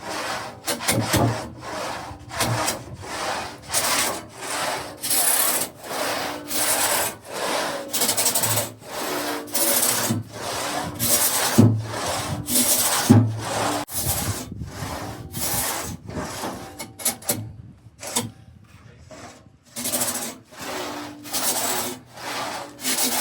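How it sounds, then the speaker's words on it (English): Steady rhythmic strokes of a large pit saw rasp through wood in a carpenter's shop, each push and pull distinct, loud and close, with a short pause near the end. "So I'll leave you here with the sights and sounds of sawing."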